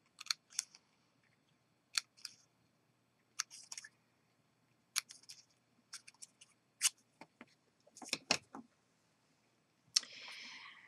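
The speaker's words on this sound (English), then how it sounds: "you just snip just a little ways between each of the 2 petals, each of the petals" Small scissors snip between the petals of a paper flower, giving sharp, crisp cuts that come singly and in quick pairs at uneven intervals, close and quiet. The last snip trails into a short rustle of paper.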